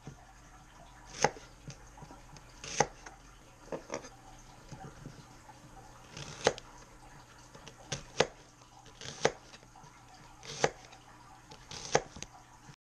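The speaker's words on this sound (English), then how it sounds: "Alright, we have a shallot here. I'm going to finally chop this up to the best of my ability." A knife chops a shallot with about a dozen sharp, close cuts at a slow, uneven pace, separated by quiet pauses and no talking.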